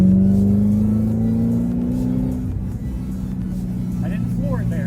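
A 2011 Ford Shelby GT500 engine pulls at part throttle, its steady droning tone rising then settling into a loud constant cabin rumble with road noise, heard from inside the car.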